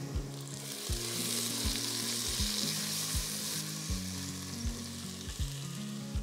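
Onions sautéing in an electric pressure cooker for mutton curry, a steady close sizzle of frying with repeated scraping stirs of a spoon against the pot, no voices.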